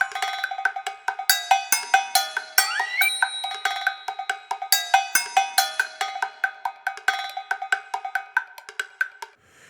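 Software percussion loop from UVI Percussion Factory: rapid, bright metallic cowbell-like hits in a steady syncopated pattern with a few pitched sweeps, dry and close, no voices.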